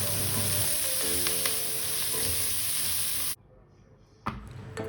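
Green chilies sauté for a vegetable kurma, giving a loud close sizzle with stirring clatter. The sound cuts off abruptly partway through, leaving near silence, then a brief sizzle resumes at the end.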